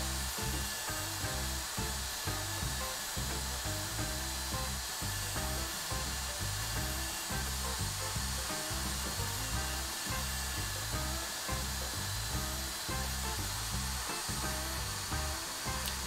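A steady, loud whirring buzz from a polishing machine bringing a dug-up metal-detecting coin to a high gloss finish, running continuously without a break and with no voices.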